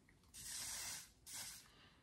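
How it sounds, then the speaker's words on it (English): Two short hissing bursts of a hair shine spray, close up, with a brief pause between them in an otherwise quiet room. "So this is just a shine spray, of course."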